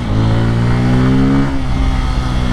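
A Kawasaki Pulsar N250 250cc motorcycle heard close while being ridden, its engine holding a loud steady drone with a slight pitch drop midway, then the revs climbing again at the end.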